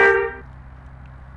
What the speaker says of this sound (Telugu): అది నార్మల్ హార్న్